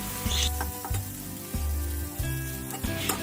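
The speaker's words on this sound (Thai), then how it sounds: "ใส่น้ำมันเล็กน้อย จากนั้นใส่พริกแกงเผ็ด ผัดให้พริกแกงหอมเลยนะครับ" Red curry paste stir-frying in a little oil in a home kitchen, a steady close sizzle broken by repeated scraping strokes of a spatula, with no talk.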